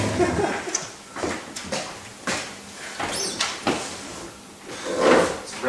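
A door opens during a stage play, amid a string of knocks, clunks and shuffling movements spread across the scene, with no speech.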